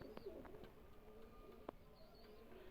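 A Chaudhry-breed pigeon coos softly at close range against a faint, quiet backdrop, with a few short calls and chirps scattered through.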